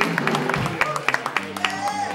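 Crowd at a blues club benefit show claps for itself: scattered, fairly close hand claps from a modest audience, irregular and sparse, under someone talking and a murmur of voices.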